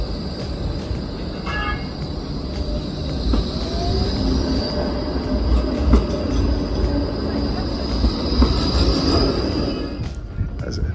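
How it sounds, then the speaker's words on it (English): A tram rolls past on a street in Gent, Belgium, near the Flanders Expo stop, its steady rumble close and loud with wheel squeal in the middle, and it fades off near the end. "Another tram, I better not get run over by that."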